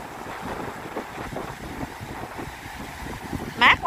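Steady sea wind buffets the microphone on the beach at Trouville-sur-Mer in Normandy, a continuous rushing roar with gusts, and a short sharp sound near the end.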